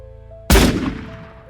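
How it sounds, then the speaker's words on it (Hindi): One loud, close gunshot bang in a courtroom cuts through a quiet hum, followed by a decaying echo. "नेवी की ड्रेस पहने उस शख्स ने जेब से गन निकालकर आरोपी पर गोलियां बरसा दी थीं।"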